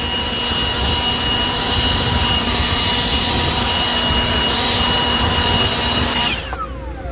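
A blower roars steadily while clearing debris from a grain dryer, a loud, continuous whooshing drone with a tonal whine that holds for several seconds and then cuts off abruptly near the end.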